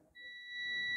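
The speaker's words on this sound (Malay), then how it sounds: "Kita boleh tahu dia direct ground kalau dia bunyi bip." A multimeter's continuity beep starts abruptly and holds steadily, fairly loud and close, after a brief moment of quiet, while testing a ground connection on a Toyota Avanza 3SZ engine.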